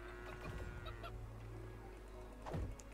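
A chicken in the video game Craftopia clucks in short scratchy bursts over a steady low game hum, with a louder squawk near the end.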